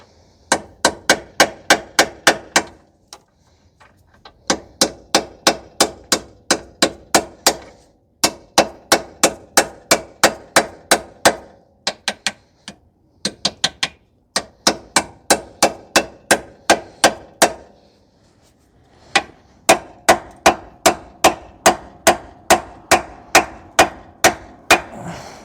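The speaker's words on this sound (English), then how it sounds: "See if we can hammer on a socket." Hammer striking a 19 mm socket on the lower ball joint nut of a 2011 Subaru Outback 2.5, a long series of sharp metallic clanging blows in quick rhythmic bursts separated by short pauses.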